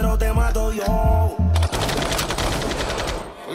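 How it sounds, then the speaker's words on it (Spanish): Rapid machine-gun gunfire sound effects in a reggaeton track, a loud burst of repeated shots breaking over the beat and bass, then trailing off. "Y los disparos, como siempre,"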